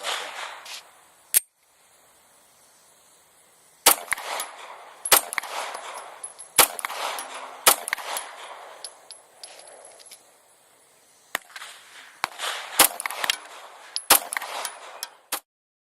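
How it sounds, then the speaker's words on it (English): Beretta 92 FS 9mm pistol firing hollow point rounds at a range, a string of sharp, loud cracks, some spaced apart and some in quick bursts, with metallic clanks between them. "the wife's Beretta 92 FS 9mm. I made up some hollow points for her, and we'll see how these like it."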